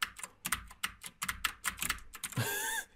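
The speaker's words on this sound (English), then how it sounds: "hit all the keys and see if you can toggle through the different pages" Keys on a computer keyboard are pressed in a quick irregular run of sharp clicks, fairly close, followed by a brief higher electronic tone at the end, with no speech.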